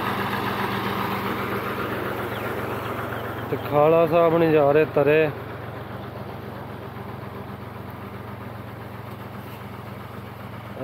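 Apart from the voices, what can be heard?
idling engine of a small Fiat tractor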